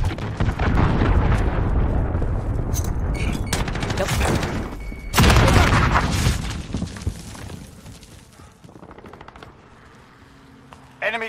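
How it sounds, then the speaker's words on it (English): Dense, loud gunfire and explosions in the Modern Warfare team deathmatch video game, with rapid automatic bursts and heavy booms continuing throughout and easing toward the end. "Enemy cruise missile incoming"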